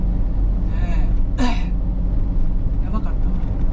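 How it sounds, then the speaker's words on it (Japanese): A single sharp cough bursts out, followed by a faint second one, over the low steady rumble of an idling truck cab. "思いっきり咳できますから"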